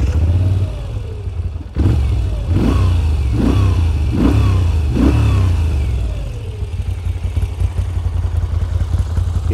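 Moto Guzzi V7 Special Edition motorcycle, a 2023 model, fires up and its engine is blipped through five quick revs in a row, then settles into a deep, lumpy idle, loud and close with no talk.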